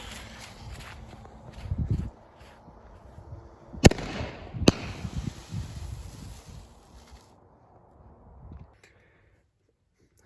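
A 3D printed canister firework shell lit and launched outdoors, with rustling and footsteps, then two sharp loud cracks close together before things settle into quieter shuffling.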